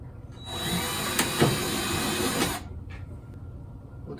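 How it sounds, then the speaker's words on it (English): A power drill bores pilot holes for light brackets in a camper interior, one steady whirring burst of about two seconds with a slight load change midway, followed by a faint brief rattle. "we'll just drill a couple of pilot holes"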